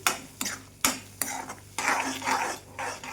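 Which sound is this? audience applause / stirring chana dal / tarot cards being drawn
stirring chana dal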